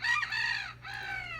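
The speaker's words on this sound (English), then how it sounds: "Stop the crowing." A rooster crows loudly and close by, one long drawn-out call with a short dip partway through, standing alone with no talking over it.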